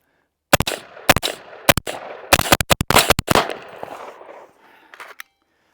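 A Blackout Defense pistol in 300 Blackout firing subsonic rounds from a Magpul magazine: a string of sharp, close, loud shots, first spaced apart, then a rapid cluster, each with a short ringing tail, and no voices.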